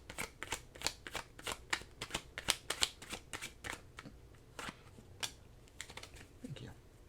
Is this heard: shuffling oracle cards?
yes